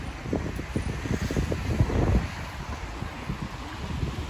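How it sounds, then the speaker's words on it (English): Strong wind buffeting the microphone on a street in Muswell Hill, a steady low rumble with gusty bursts that swell around the middle, heard alone without talk. "There's a pretty strong wind at the moment"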